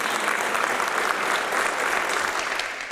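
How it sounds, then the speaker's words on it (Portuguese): A church congregation at a Sunday service claps steadily, a dense, sustained wash of applause filling the room from start to finish. "Uma salva de palmas para Jesus."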